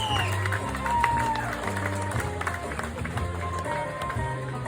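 Audience at an old-school pinup contest clapping and cheering for a contestant, steady applause with scattered whoops while a voice and background music carry on beneath it.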